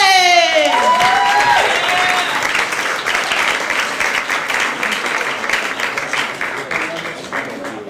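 A comedy-club audience at a Gay Pride show bursts into applause and cheering for a comedian, with a host's voice briefly over the start, the clapping settling into a steady, lively patter.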